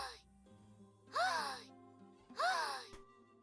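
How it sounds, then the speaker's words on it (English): A female character's voiced gasps in the video game Genshin Impact, two sharp breathy intakes about a second apart over a quiet game soundtrack with no talk. "the line delivery of the gasp"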